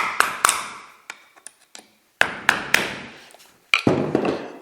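A screwdriver is tapped against small metal locking tabs on a final drive to flatten them. There are sharp, ringing metallic taps in irregular clusters with short pauses between, close and clear with no talking.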